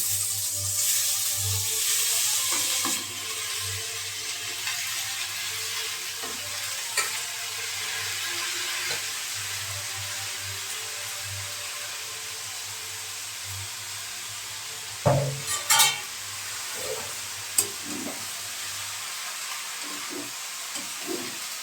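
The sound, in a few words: banana stem and potato frying and being stirred in spiced masala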